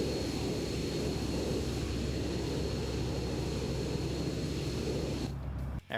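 Aircraft engine in a PvP military video game, a steady low droning roar that holds for several seconds and then cuts out abruptly near the end.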